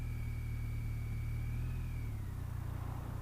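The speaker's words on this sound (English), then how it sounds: "Bringing the speed down nice and gently on the end," A motorcycle slows under engine braking on a road during an advanced riding session, its engine note a steady close drone that drops in pitch partway through, with no talk.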